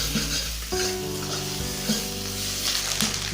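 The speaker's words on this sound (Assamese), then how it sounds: "মছলাটো এতিয়া মই ভালকৈ ফ্ৰাই কৰি ল'ম।" Spice masala of red chilli powder and coriander powder fries and sizzles steadily in a pan while being stirred, close and continuous, with no one talking.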